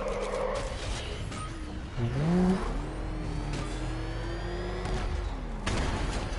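In Batman: Arkham Knight, the Batmobile's engine hums and whirs, rising into a sharp rev midway and then settling into a sustained mechanical drone, with a brief clatter near the end.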